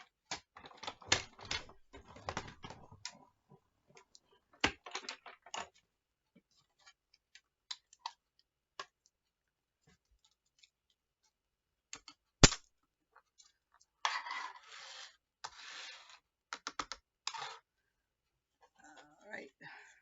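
Scissors snipping paper pieces and trimming little divots along the edges, a series of sharp, irregular cuts and rustles at close range, with quiet gaps between bursts and no talk.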